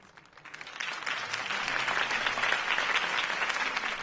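Crowd applause in a Batman video game swells from a quiet start into steady, dense clapping that carries on loudly, like a large audience cheering.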